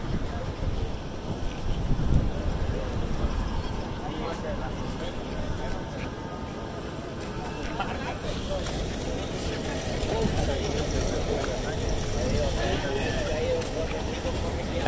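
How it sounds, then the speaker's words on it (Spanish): A motorboat engine drones steadily at a distance on open water in El Salvador, a continuous low rumble mixed with wind buffeting the microphone and lapping waves, with people talking over it. "Ahí van subiendo una lancha ahorita, ese es el ruido que se oye ahorita."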